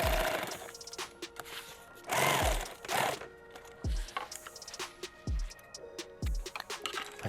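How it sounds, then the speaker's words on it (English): Sewing machine stitching a helmet bag in short bursts of rapid mechanical whirring, stopping and starting several times with brief quiet gaps and small clicks between runs. "which puts 4 lines of stitching in there on the leading edge"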